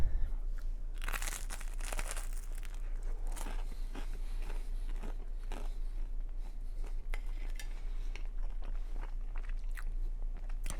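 Someone bites into air-fried English muffin garlic bread with a golden crust, giving crisp crunches and chewing close to the mic, along with light clinks of a plate over a low background hum.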